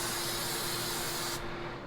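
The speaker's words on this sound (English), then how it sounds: "I'm going to give them a quick spray of Pam." A short, loud spray of Pam cooking spray hisses steadily for over a second onto food in an air fryer basket, then cuts off abruptly, leaving a faint hum.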